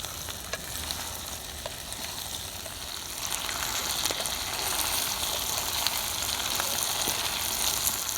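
Onions and potatoes frying in oil with mustard seeds for a cauliflower-potato dish, a steady close sizzle with scattered pops and crackles that grows slightly louder as it goes on.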